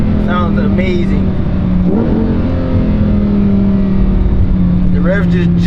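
A naturally aspirated Lamborghini Huracan engine revs loud and close, its pitch sweeping up sharply several times over a steady drone, with some voices mixed in.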